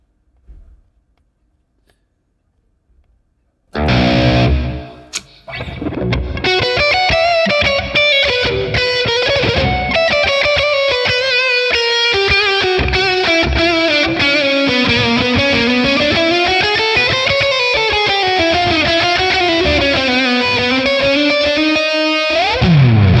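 After a quiet start, a heavily distorted electric guitar through a ToneX ONE high-gain amp model blares in and sustains with ringing, wavering chords and a lingering reverb tail, loud and continuous.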